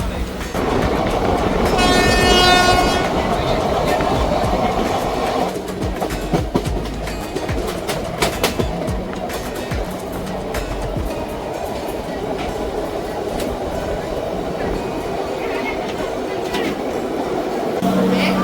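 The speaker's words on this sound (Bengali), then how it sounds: "কলকাতা স্টেশন থেকে 47 কিলোমিটার জার্নি কমপ্লিট করে আমাদের ট্রেন এখন এসে পৌঁছেছে উলুবেড়িয়া স্টেশনে" Train 03161, the Kolkata–Digha special passenger train, runs near Uluberia station. A loud horn blast sounds early, followed by continuous rumbling and wheel clatter from inside the carriage, with faint voices in the background.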